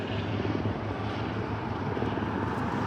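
A hospital helicopter passes overhead on a walk through Halifax's North End, its rotor chop a steady thrum carrying on without a break at moderate distance, with no talking.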